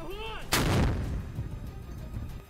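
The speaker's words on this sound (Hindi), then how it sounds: "फिर रॉकेट को लोड करके दाग दिया गया।" A rocket launcher fired by fighters in wartime Mariupol, one sudden loud blast with a rushing roar that trails off into rumbling noise, preceded by a brief whine.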